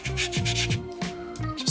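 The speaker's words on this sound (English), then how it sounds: "Tucking my sandpaper in" Sandpaper rubs back and forth over a small soapstone eagle carving in quick repeated strokes, a close, dry, gritty scraping with a steady rhythm and no talk.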